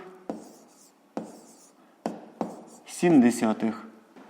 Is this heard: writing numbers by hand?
yes